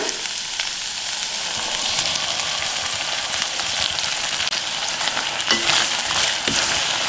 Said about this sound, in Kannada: ಇದನ್ನ ಎಣ್ಣೆಲ್ಲೆ ಒಂದು ಎರಡರಿಂದ ಮೂರು ನಿಮಿಷ ಈ ಥರ ಬೇಯಿಸ್ಕೋಬೇಕಾಗತ್ತೆ